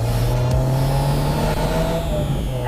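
A 2022 Subaru WRX GT engine drones loud and close through a hairpin corner, a steady low hum with a slight rise in revs.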